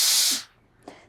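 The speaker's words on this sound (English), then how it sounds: "then we're going to press it in place, and I love to use some steam" Steam iron hissing as it presses fusible interfacing onto a jacket piece, a loud steady spray for about half a second that cuts off, followed by a faint short puff.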